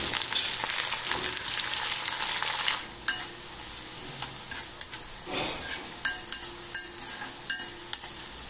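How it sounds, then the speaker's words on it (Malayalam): Halved shallots and curry leaves hiss loudly in hot oil for a few seconds, then a spoon scrapes and clinks against the pan in a steady series of taps over a softer sizzle. "ചെറിയ ചെറിയുള്ളി രണ്ടായിട്ട് അരിഞ്ഞതും കുറച്ച് ഇട്ടു കേട്ടോ"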